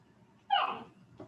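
A puppy gives a single short, high whimper or yip close by, followed a moment later by a fainter second whine, over a quiet background.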